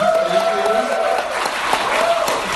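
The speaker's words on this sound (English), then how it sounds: "give her a round of applause for that" An audience at a Libertarian Party event applauds in a steady, dense wash of clapping heard close, with a held tone and some voices running beneath it.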